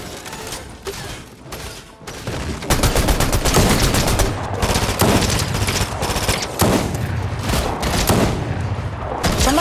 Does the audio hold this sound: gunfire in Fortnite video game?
yes